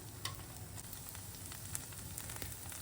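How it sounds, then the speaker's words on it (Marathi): Thalipeeth, a flat Marathi fasting flatbread, roasts on a hot griddle with a steady, even sizzle and faint crackling pops, close by and continuous with no talk. "आता हे थालीपीठ आपल्याला दोन्ही बाजूनी खरपूस असं भाजून घ्यायचं आहे"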